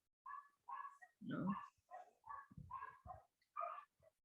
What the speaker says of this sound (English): They're dogs barking.